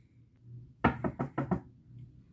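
Five quick knocks on a door, sharp and close, in a brisk rhythm against a quiet background.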